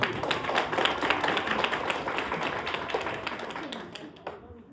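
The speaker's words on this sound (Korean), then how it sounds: "박수 부탁드릴게요." Audience clapping at an academic report presentation, a moderate patter of individual claps that thins out gradually over a few seconds.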